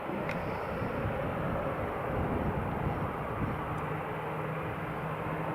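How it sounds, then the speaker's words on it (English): A KLM airliner taxiing at Newcastle International Airport gives a steady, distant jet engine rumble and whine that runs unbroken throughout, blended with broad outdoor background noise. "KLM is ready to taxi."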